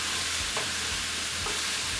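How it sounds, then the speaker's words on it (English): Beef browning in a pot on a fire hall kitchen stove, a dense continuous sizzle filling the sound close up, with a couple of soft stirring scrapes and no voices. "just going to give our beef a stir here"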